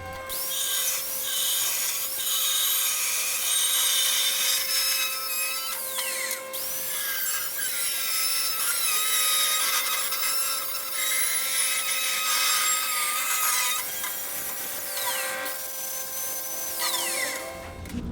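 A DIY lift kit bracket being cut off with a power tool, a steady, loud grinding whine that runs near-continuously for about eighteen seconds with brief dips in pitch and level, no talking.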